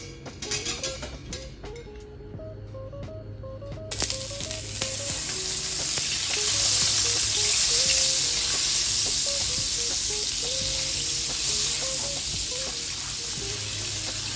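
Margarine melts into vegetable oil in a non-stick pot over slow to medium heat. A few quiet clinks give way to a bright, hissing sizzle that swells after a few seconds and holds steady to the end.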